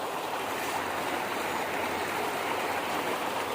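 A river flowing past a campground in Woodstock, Georgia in bare-tree winter, a steady broadband rush of moving water, close and continuous with no voices.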